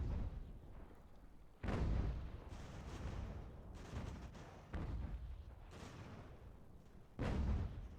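Cannons fire in a strategy battle game of the American Revolution, a rumbling barrage of heavy booms arriving in waves, each blast swelling then fading into a continuous roar of distant gunfire.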